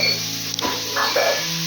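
Flower fritters (bora) fry in hot oil with a close, continuous sizzle and a few stirring clinks, and no one speaks.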